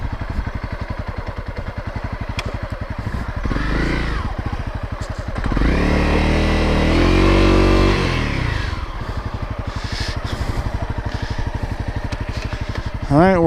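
A dirt bike that has trouble starting, idling with a rapid steady engine chug, then revved loudly in two rising and falling bursts, close by, with a sharp high whine at the end.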